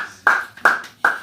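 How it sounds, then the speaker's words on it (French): Three sharp, loud hand claps spaced evenly about a third of a second apart, close and distinct, each with a short ringing decay in a room at a French-speaking church gathering. "Ça mérite vraiment les applaudissements."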